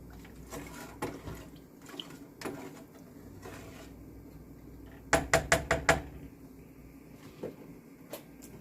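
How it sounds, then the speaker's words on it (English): A spoon stirs soup in a pot, giving a quick run of sharp clinks and knocks against the pot's side in the middle, with scattered softer taps around it and no talking. "Stir this up a little bit."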